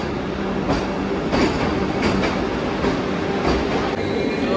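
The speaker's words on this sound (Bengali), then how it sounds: "আমাদের ট্রেন চলে এলো।" The Vande Bharat Express from New Jalpaiguri to Howrah pulls into a platform with a steady rumble, wheel clatter and brief screeches. The sound is loud and close, and a public address or voices in the station are faintly heard.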